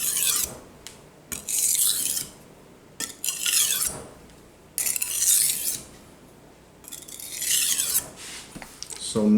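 Steel knife blade drawn in single strokes across a sharpening stone for polishing, giving bursts of bright rasping scrapes separated by short pauses, close and fairly loud.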